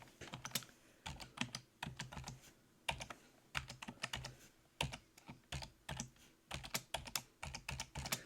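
Fingers tap out a password on a computer keyboard in quick bursts of crisp, close keystrokes separated by short pauses, quiet and with no one talking.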